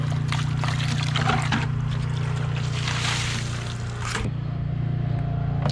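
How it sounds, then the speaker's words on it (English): Clay water poured back and forth between buckets to separate out sand when making backyard clay: a continuous close splashing trickle and gush that stops abruptly near the end, with no talking. "pour it back and forth, cleaning the buckets over and over till you think you have no more sand."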